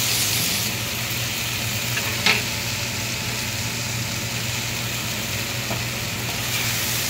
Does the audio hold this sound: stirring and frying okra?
yes